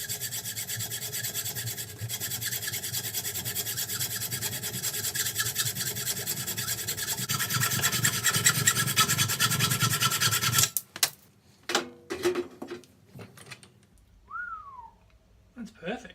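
A spacer being trimmed down during a restoration: a long, continuous, loud rasping scrape close by, like filing or cutting, that ends abruptly, followed by scattered clanks and handling knocks.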